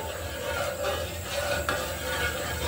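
Soft scraping and swishing of a spoon stirring hot milk with condensed milk in a pot, with a faint sizzle underneath, close by and without talk.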